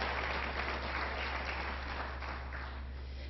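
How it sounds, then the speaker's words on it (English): Audience at a community mental health resource fair applauds the committee and sponsors, a steady, muffled wash of clapping over a low electrical hum, fading slightly toward the end. "So if we could please have a round of applause for our committee and our sponsors."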